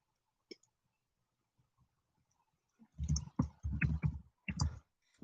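Keys tapped on a computer keyboard in bursts of quick clicks, with short pauses between runs; one faint click comes first, then steady close typing for a couple of seconds, with no voice.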